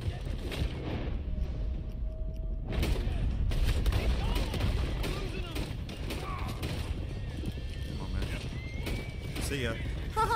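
Several sharp gunshots crack close by in a Red Dead Redemption 2 shootout, mixed with the clatter of hooves and a busy game soundscape. A voice talks over parts of it.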